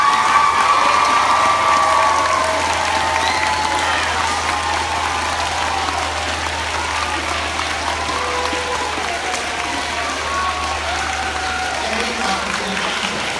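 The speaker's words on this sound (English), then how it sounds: "give them a big round of applause" Sustained applause from a crowd gathered to honor the teachers at Liberty Tree, a dense steady clapping with some cheering and children's shouts, holding loud throughout with no speech over it.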